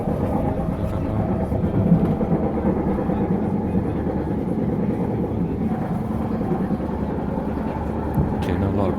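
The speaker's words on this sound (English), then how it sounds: "On the train, 6043." Inside a passenger train on the move, a constant low rumble and rattling of the carriage with faint clacks, occasional voices mixed into the steady noise.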